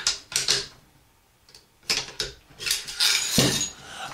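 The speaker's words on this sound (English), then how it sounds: "Slide your bolt rod up and then lift up" The bolt is pulled from a Charles Daly N4S 12 gauge semi-automatic shotgun, giving a close run of metallic clicks, scrapes and ratcheting slides, loud and uneven, with no talking.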